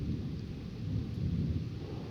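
Low, continuous rumble of thunder from a severe thunderstorm over New York Harbor near Atlantic Highlands, a steady heavy roll with no speech.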